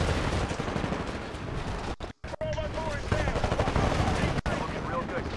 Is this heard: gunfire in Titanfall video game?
yes